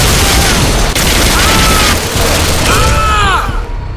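Weapons fire in the Bodycount arcade shooter video game: loud, close bursts of gunfire and booms, with ringing metallic whines and a fading tail as the volleys end.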